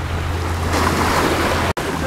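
Choppy waves wash against the shore on Lake Maggiore, a close, steady rushing surge mixed with wind noise on the microphone and a brief dropout near the end.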